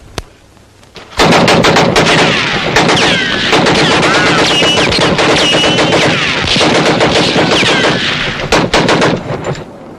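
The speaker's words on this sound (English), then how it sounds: "Now let the gun speak." Western movie gunfight with loud, sustained rifle and gun volleys, rapid overlapping shots and ricochet whines filling the scene after an opening single report, close and dominant throughout.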